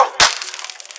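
A police taser fires in a residential yard during a confrontation: a sharp, loud pop, then a rapid run of ticking electrical clicks that fades slightly.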